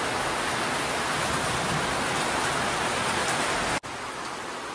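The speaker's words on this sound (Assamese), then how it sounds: "একদম জোৰদাৰ বৰষুণ আহিছে" Heavy rain pounds on and around a new car during a dark morning storm, a dense, loud, unbroken hiss of falling water lasting throughout, with one sharp brief dropout near the end.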